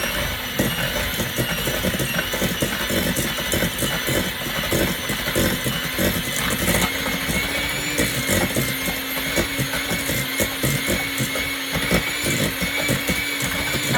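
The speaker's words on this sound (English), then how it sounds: "with an electric hand mixer to cream the butter and sugar together" An electric hand mixer creams butter and sugar for lemon poppy seed sourdough muffins, a steady continuous motor whine with a grinding texture and no talk.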